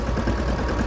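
A tractor engine idles close by, a steady low rumble and vibration throughout the short moment with no voices.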